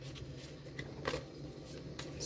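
Oracle cards being shuffled by hand, a soft run of quick riffling and rustling flicks with a few sharper snaps, close but quiet over a low steady hum, no talking.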